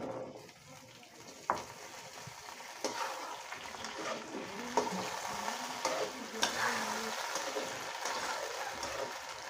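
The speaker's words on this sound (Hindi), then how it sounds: "इसको हमने एक मिनट के लिए भूनना है" Potatoes with cumin seeds and lightly browned onions frying in oil for an aloo palak sabji, a steady sizzle broken by scraping stirs and a few sharp spoon knocks against the pan, close by.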